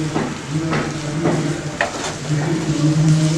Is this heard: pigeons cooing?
no